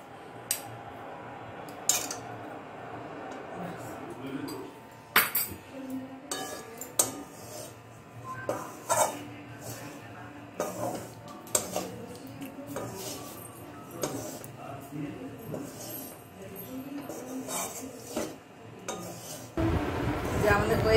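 Cumin powder is mixed into ground puffed rice for a Bengali khoi sweet, with a spoon scraping and clinking against a metal bowl in irregular, close taps and rattles.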